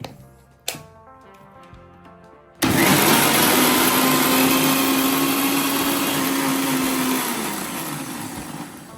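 An electric mixer grinder starts with a loud roar and whirs steadily while blending coconut and water into coconut milk for chicken curry; earlier a few clicks and handling sounds come before the motor kicks in.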